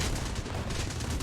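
Machine guns on a Breguet 693 aircraft in War Thunder fire in a dense, continuous burst, loud and close throughout the brief moment with no pause.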